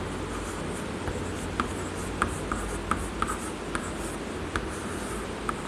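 A pen scratches steadily across paper, with faint, close strokes and small taps at an even rhythm over a hissy background.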